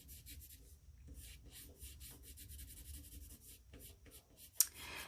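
Oil pastel and colored pencil strokes rubbing across paper in a steady scratchy stream, applied with heavy pressure in curving motions, close and fairly quiet, ending with a brief sharp tap.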